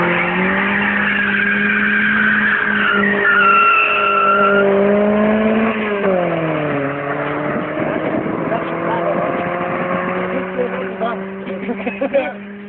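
A car's tires spin and squeal in second gear, a loud sustained engine-and-tire whine that rises and dips in pitch, with people talking and shouting over it throughout.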